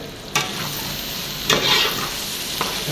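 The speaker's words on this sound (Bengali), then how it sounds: "আজকে এখন ডিম রান্না হচ্ছে" Eggs sizzle loudly and close in a hot pan, a steady hiss broken by a few scraping stirs.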